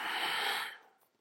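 A single strong breath during a dynamic core yoga class, a loud airy rush close to the mic that holds for about half a second and then fades, with no talking.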